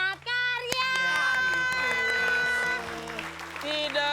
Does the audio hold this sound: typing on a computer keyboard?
no